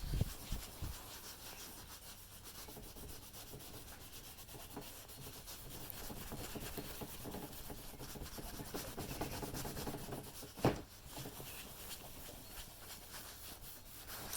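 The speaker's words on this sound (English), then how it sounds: "Try rubbing that in." Bumper and trim gel is rubbed into faded Polaris 455 ATV plastic, producing a steady close rubbing and scrubbing with one brief louder knock partway through.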